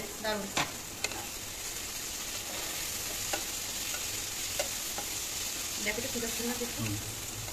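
Capsicum and carrot stir-frying for pasta sizzle softly in the pan, with scattered clicks and scrapes of a stirring utensil and a faint voice murmuring in the background.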